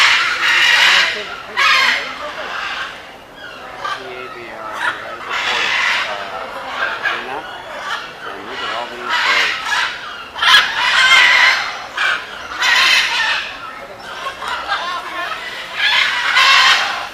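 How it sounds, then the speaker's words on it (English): Parrots squawk at the port in Cartagena, Colombia, in a humid tropical setting, giving repeated loud harsh calls in dense overlapping bursts with little pause throughout. "Hear the squawking?"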